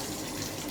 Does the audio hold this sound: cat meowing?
no